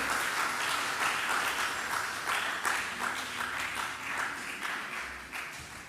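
A church congregation claps together during a Sunday morning worship service. The sound is a steady, rhythmic stream of many hands clapping at a moderate distance, holding fairly even throughout with no talk over it.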